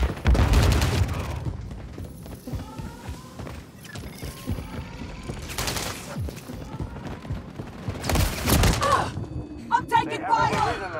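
Gunfire and explosions in Call of Duty: Modern Warfare III War mode, with heavy booming blasts at the start, middle and near the end between bursts of shots, all under steady in-game voice chatter.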